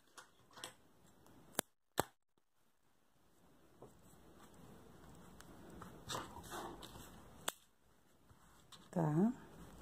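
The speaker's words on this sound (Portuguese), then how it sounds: "Agora, aqui, eu vou cortar o fio." Scissors cut through crochet yarn with a couple of sharp snips, followed by a dog whimpering and faint talk in a quiet room.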